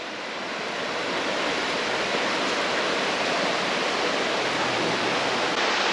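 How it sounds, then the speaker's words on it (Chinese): Steady rushing water of the clear Malian Creek, a mountain stream, flowing over rocks, close and continuous with no pauses. "好棒的溪水，令人春心荡漾。"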